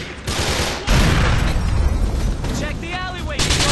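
A grenade detonates in Grand Theft Auto IV with a loud, booming blast amid rattling gunfire, while voices shout over the action.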